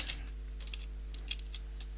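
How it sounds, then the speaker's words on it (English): Fingers tap on a computer keyboard in a quiet room, a sparse run of light, close clicks in small irregular bursts over a low steady hum. "Notice that as I type a new line, another new line,"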